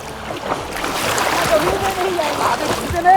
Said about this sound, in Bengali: পুকুরে অনেকদিন চান করছি দারুণ লাগছে